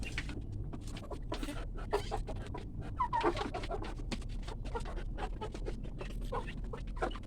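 Chickens in a pen during morning feeding, with soft scattered clucks and short calls repeating throughout over a steady low background hum, at moderate distance.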